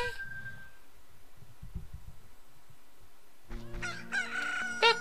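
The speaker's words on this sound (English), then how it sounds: "look, a chicken hatched from egg" A chicken that has just hatched from an egg in the video game The Legend of Zelda: Ocarina of Time crows a bright, tuneful cock-a-doodle-doo, loud and close, after a quieter stretch of low game ambience.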